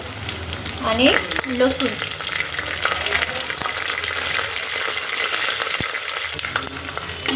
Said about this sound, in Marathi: जिरं, मोहरी, शेंगदाणे हे बघा हे टाकून घेऊ आता तेलामध्ये. तेल चांगलं तापलं आहे.